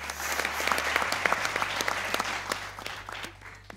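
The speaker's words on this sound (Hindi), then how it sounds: "ताली बजाओ बेटा" A studio audience on a cricket talk show claps in a dense, steady round of applause that holds for a few seconds at moderate loudness over a low background hum.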